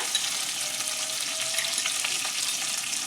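Onion with ginger and garlic paste and kasuri methi fries in a pan, producing a steady close hiss and sizzle with faint crackles, no voices.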